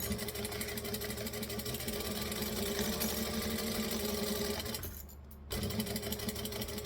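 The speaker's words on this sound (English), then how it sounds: "I'm going to put this under the needle and we're going to stitch with a 1/4 inch seam allowance" A sewing machine stitches a quarter-inch seam allowance through fabric, its motor whirring in a steady, close, continuous run that dips briefly near the end before starting up again.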